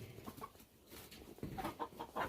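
Chickens cluck softly near a farm where a calf is expected, giving a scatter of short, faint clucks over a noisy outdoor background.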